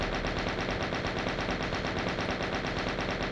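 Rapid continuous gunfire in the video game Doom, aimed at Arachnotrons, a dense unbroken stream of loud shots with no pause and no voices.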